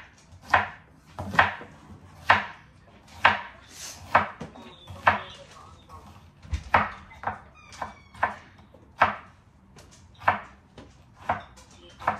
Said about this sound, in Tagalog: Gagayat ng sibuyas.